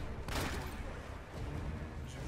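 Gunfire from the video game Uncharted, a dense burst of rapid shots starting sharply and continuing as steady, loud fire across the whole stretch with little break.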